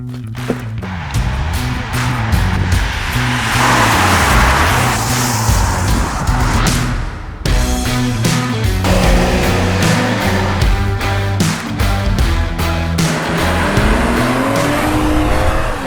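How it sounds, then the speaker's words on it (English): A BMW 4 Series engine revs and shifts through gears, loud and close, with tires squealing at times as the car drives hard on the road. "Let's get this car out on the road."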